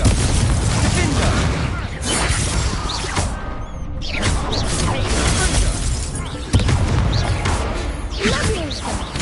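Confringo fire spell blasts in Hogwarts Legacy burst out as repeated crackling explosions and whooshes in loud, chaotic combat, with a sharp hit late on and voices talking over the fight.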